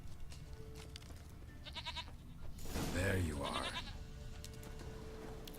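A goat bleats in The Witcher 3 video game, one clear bleat in the middle over quiet ambient game sound, with someone speaking briefly.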